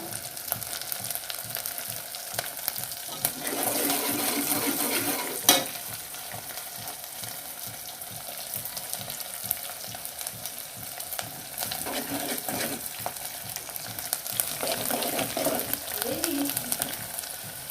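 Curry leaves and onion frying in hot oil in a pan for Marathi ambat varan, a steady crackling sizzle running throughout with occasional stirring scrapes and a brief louder burst of spatter.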